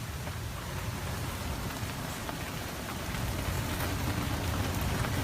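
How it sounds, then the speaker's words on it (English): Steady rain from Hurricane Irma pours down in South Florida in a dense, even hiss, growing slightly heavier toward the end, with no voices. "it's nice and breezy, it's raining"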